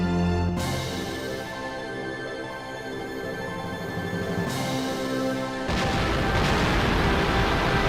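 An explosion in the 1998 Sega arcade game Dynamite Cop rumbles on as a dense, sustained crashing roar, with a sharp burst midway and a louder, harsher blast toward the end.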